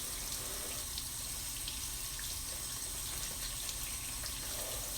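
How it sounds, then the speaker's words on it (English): Tap water runs steadily from a faucet onto sea moss being rinsed in a sink, a continuous close splashing gush with no pauses for the full stretch. "at first I will use a little bit of the tap water just to rinse this off here"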